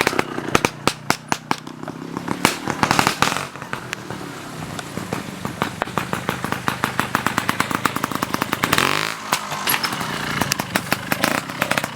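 A trials motorcycle engine revs hard under throttle, with fast sputtering firing pulses and repeated surges and drops in pitch, loud and close, and no voices.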